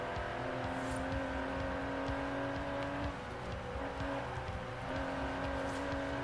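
Aston Martin DB11 with a 5.2-litre twin-turbo V12 drives in Forza Horizon 4, its engine a steady, loud drone holding throughout with no voices over it.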